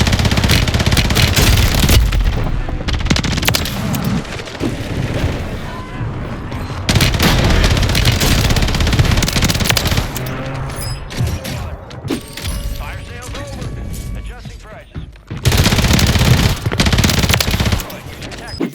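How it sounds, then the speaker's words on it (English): Rapid automatic gunfire from the JAK Revenger in Call of Duty gameplay on Rebirth Island, dense loud bursts of shots with mechanical clatter and impacts, pausing briefly between volleys, with voices talking underneath. "let's take a look at a couple quick clips of this gun in action, seeing how fast it kills"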